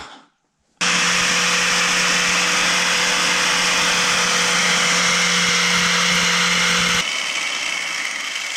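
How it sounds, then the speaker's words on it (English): An angle grinder strips paint off the bare metal of a Honda CRX. After a brief quiet start it spins up into a loud, steady whine with a droning hum, eases slightly near the end, and runs alone without talk. "Now we need to grab a grinder and just clean off some of this paint here so we can get a good weld"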